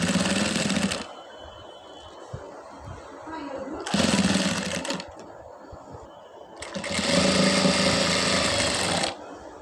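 Sewing machine stitching a rolled seam on a blouse, with bursts of fast mechanical running around the start, middle and end, and quieter handling and fabric noise between them.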